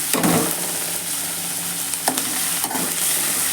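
White onions sauté in a pan for a sweet corn gravy, a steady sizzle with a scraping stir near the start and a couple of sharper spatula clinks later.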